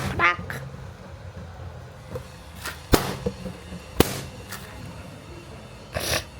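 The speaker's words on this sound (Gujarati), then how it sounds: "ફુગ્ગા બધા ફોડી નાખ્યા છે" Balloons popped during Holi play, giving several sharp, loud bangs spaced a second or so apart, alone apart from some faint rustling in between.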